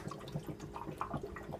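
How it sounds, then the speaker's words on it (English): Inside a Keurig K10 coffee brewer, water drains down into the heating reservoir with soft trickling, gurgling and small drips, fairly quiet and close. "you can hear the water going down into the heating reservoir"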